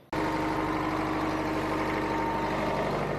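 A Jeep Wrangler engine idles steadily up close, a constant low rumble with a faint whine, starting abruptly and running evenly to the end.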